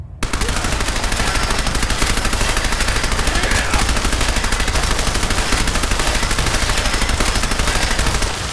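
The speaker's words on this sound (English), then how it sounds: "Fire at will!" Dense automatic gunfire from the modded Fallout 4 video game roars nonstop, loud and close, a continuous rapid barrage of shots with no break.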